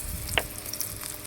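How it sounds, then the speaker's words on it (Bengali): Chopped onion frying in oil in a wok for a small fish curry, a steady quiet sizzle close by with a few soft stirring scrapes and clicks, no voice over it. "এখন আমি পেঁয়াজটাকে ভালোভাবে ভেজে নেব, লাল করে ভেজে নেব।"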